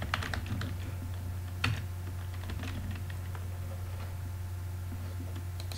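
Rapid keystrokes on a computer keyboard as a view name is typed into a Drupal 9 admin page, a steady stream of light clicks over a constant low electrical hum, with one louder tap near the middle.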